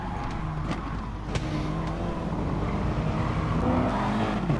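An Audi and a McLaren race car in a racing video game roar along with a continuous, loud engine drone and occasional revving, no voices over it.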